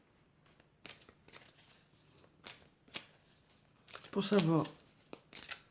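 Oracle cards are shuffled and handled, a soft papery riffling in short repeated bursts, with someone speaking briefly over them.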